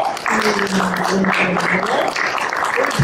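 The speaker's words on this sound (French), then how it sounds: "Je vous propose qu'on les applaudisse moultement." Audience applause at the closing session of a conference, a steady, dense wash of clapping that holds for the full three seconds with no clear gaps.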